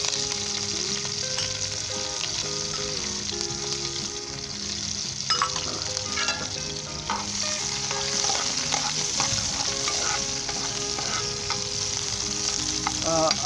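Sliced onions and green chilies frying in a pan for Pakistani onion rice, a continuous moderate sizzle with occasional stirring clicks and scrapes, no talking.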